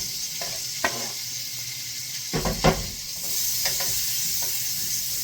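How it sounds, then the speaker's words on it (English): Onion and green pepper hit a pan on medium heat after rendered fat, a soft hiss swelling into a louder sizzle with a few clattering stirs and scrapes, near and brief. "Now on a medium heat, we're going to go ahead and introduce the vegetables."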